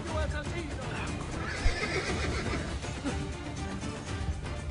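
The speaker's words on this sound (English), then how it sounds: "your horse is gonna be so upset. It's gonna neigh right in a second." A horse in the Assassin's Creed Brotherhood video game gives a loud whinny over a dense backdrop of game noise, hoofbeats and clatter, with a brief thump midway.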